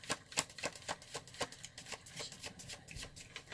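Tarot cards shuffled by hand at close range, a soft, steady rhythm of papery riffles and taps with no talk.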